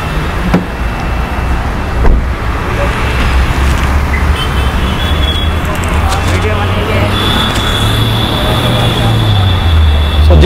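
A car driving slowly through busy city traffic while hunting for a parking spot, with a loud steady engine and road rumble from inside the cabin and a voice talking over it.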